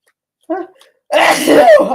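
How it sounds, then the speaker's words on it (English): A short vocal sound, then a loud, explosive sneeze up close, about a second long. "I have been sneezing my head off"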